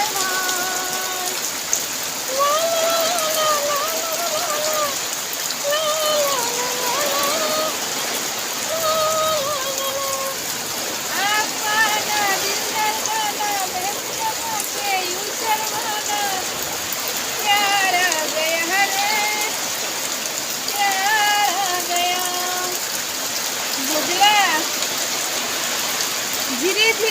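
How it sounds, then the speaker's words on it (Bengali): Heavy rain storm pours down as a steady, dense hiss throughout, with tonal chirping calls rising and falling over it. "দেখো দেখো কি বৃষ্টি কি বৃষ্টি, ঘর বৃষ্টি তুফান"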